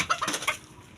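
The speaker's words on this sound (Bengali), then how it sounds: "মুরগি একটা ধরছি আজকে" A chicken clucks in a few quick, agitated bursts while being caught at home, close and fairly loud, then falls quiet for the last half second.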